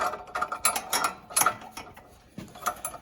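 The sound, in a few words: screwing bolts into a Briggs and Stratton engine exhaust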